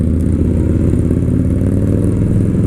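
A Suzuki Boulevard M109R motorcycle engine rumbles while riding, a loud, steady low-pitched drone with a dense throbbing texture and no pauses.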